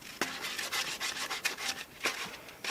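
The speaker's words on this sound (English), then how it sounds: "It's super important to sand these sharp edges off so that the two pieces fit together really nicely." Close, steady rasping strokes of sandpaper smoothing the sharp edges of homemade toilet pieces repeat in an uneven back-and-forth rhythm, loud and alone with no talking.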